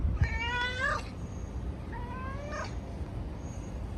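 A cat meows twice in a quiet indoor room, each call rising and falling, with a pause between them and no talking.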